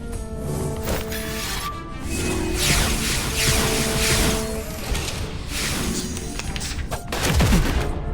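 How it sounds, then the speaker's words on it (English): Cannon fire from the video game Reverse: 1999 thunders in dense, loud, overlapping volleys, with booms and whooshes running almost continuously and no speech. "Time to blow off some cannon smoke."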